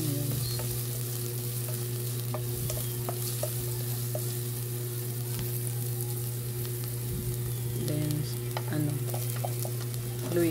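Garlic, onions and ginger sauté in a pan for ginataang kalabasa with pork bones, giving a steady close sizzle under a low continuous hum, with scattered light clicks and scrapes of stirring.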